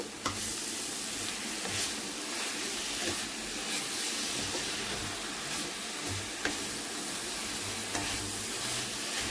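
Bottle gourd halwa frying and being stirred in a pan on a stove, a continuous soft sizzle with scraping stir strokes and occasional clicks, no talking.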